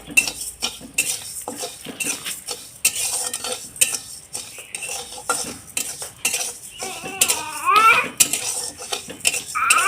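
Sugar stirred in a wok as it burns into caramel, with loud, irregular metal scraping and clanks of a spoon against the pan over a light sizzle, close and busy throughout.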